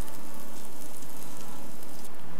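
Omelette cooking in a pan over very low heat gives a soft, steady sizzle and faint crackle. The frying is gentle and continuous with no voices.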